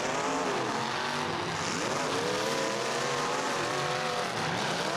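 Prostock race cars at a Bash for Cash heat, engines revving and rising and falling in pitch, with tires squealing and skidding. Several cars sound loud and close, and no one talks for five seconds.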